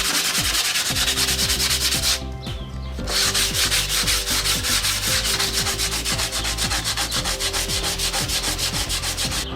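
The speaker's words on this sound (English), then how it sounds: "just sand it down, get the rough part done, and then once you got that done, just go to 220" Steady hand sanding of a wooden shield with sandpaper, a loud, continuous rhythmic rasp of back-and-forth strokes close up, with one brief pause midway and no voices.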